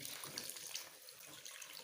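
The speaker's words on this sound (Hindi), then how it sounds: "अभी इनके अंदर हम ग्रेवी के लिए थोड़ा सा पानी डाल देते हैं" Water runs steadily with a soft splashing hiss, poured close by into a pot of green chickpea curry for gravy, continuous and fairly quiet with no voices.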